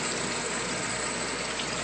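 Water pours from return nozzles into an aquarium tank, a dense, unbroken rushing hiss like heavy rain, close and loud throughout.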